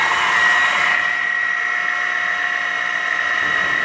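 Chevalier FCL-1840 CNC lathe running at 2200 RPM, a steady high-pitched whine with a constant tonal ring, loud and close, unbroken throughout with no talk.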